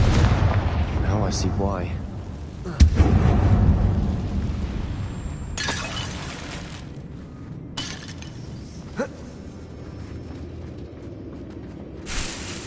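In the Hogwarts Legacy video game, a Confringo blast spell goes off in a closed mine that looks like a tomb. A voice calls out, then a sharp burst and a rumbling boom follow, with smaller crackling impacts afterward and brief talk.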